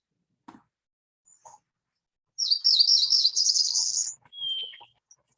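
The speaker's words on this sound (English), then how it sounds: "their song is sort of a rapid, buzzy, It accelerates, it rises in pitch" A warbler sings a single rapid, buzzy phrase that speeds up and rises in pitch toward the end, close and clear. A short, thin whistled note follows, with a few faint, sparse chirps around it in otherwise quiet surroundings.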